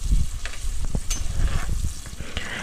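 Ginger and shallots sautéing in hot oil for a toddy-shop style tuna curry paste, a steady close sizzle with soft stirring scrapes and small crackles, no voices.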